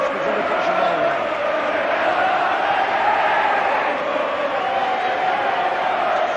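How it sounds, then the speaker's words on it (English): An 18,500-strong crowd roars steadily at a St Helens versus Wigan rugby league Challenge Cup second-round match from 1985/86. The loud, dense roar never lets up, and a commentator's voice runs over it. "Ellery Hanley acknowledging the roars of the crowd"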